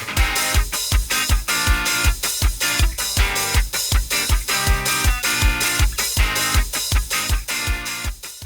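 Intro section of an anime-style rock opening: punchy drums hitting a steady beat with distorted guitar and bass chords, loud and rhythmic, instrumental with no voices.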